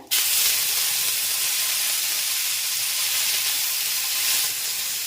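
Tempering spices, green chilli and ginger paste hitting hot oil left from frying peanuts, an abrupt loud burst into a steady hissing sizzle that carries on close and strong, easing slightly near the end.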